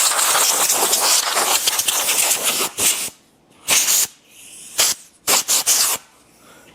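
A spray gun spraying wood stain hisses in a long continuous burst, then fires several short, sharp bursts separated by brief silences.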